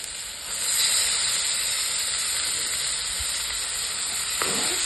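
Mutton keema hits hot oil and masala and breaks into a loud, steady sizzle that holds evenly near the mic, with a brief scrape or clink close to the end.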